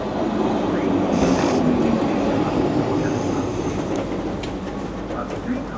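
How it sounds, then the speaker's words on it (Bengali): A tram in snowy Sapporo, Japan, rumbles steadily as it approaches along a city street, its wheels and motor forming a continuous close, loud roar. "ট্রাম।"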